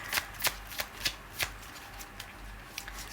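Tarot cards being shuffled by hand close up: a run of crisp riffles and slaps, several sharp bursts in quick succession that then trail off into quieter shuffling.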